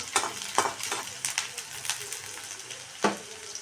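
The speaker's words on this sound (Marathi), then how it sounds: "कांद्याला असं छान परतून घ्यायचं आहे" Chopped onion with mustard seeds being sautéed in a pan, a steady close sizzle with spatula scrapes and clatters through it.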